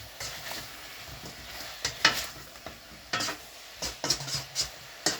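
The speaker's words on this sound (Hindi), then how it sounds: "इस मौके पे मैं चिकन पीसीज जो हैं इसमें ऐड कर दूंगा और इस तरह से इनको अच्छी तरह से मिक्स कर लूँगा" Chicken pieces sizzle in a hot pan while a utensil stirs them, with irregular scraping and clanking strokes against the metal over a steady frying hiss.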